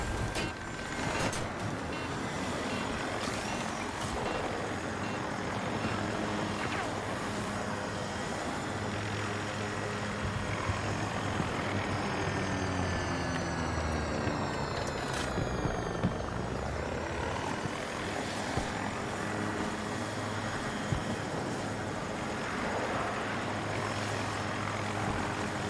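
A helicopter in the shooter game Battlefield 2042 flies overhead, its rotor thump loud and continuous amid dense battle noise, with the pitch sweeping as it passes close by around the middle.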